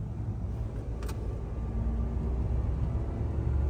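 A Dodge D100 pickup with a slant six and 4-speed rolls along in a steady, muffled low rumble with broadband road and wind noise that holds constant and swells slightly toward the end.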